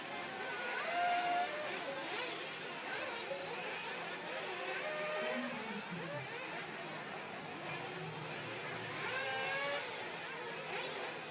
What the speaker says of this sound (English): you can hear the pro guys warming up their car